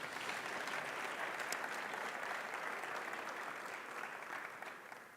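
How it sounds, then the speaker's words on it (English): An audience claps warmly, a sustained burst of dense applause that holds steady and then begins to taper off at the end. "please give these two gentlemen a warm round of applause"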